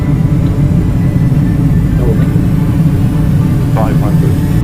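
An Airbus A320 airliner comes in for a crosswind landing. A steady, loud low engine drone runs throughout, with voices talking over it.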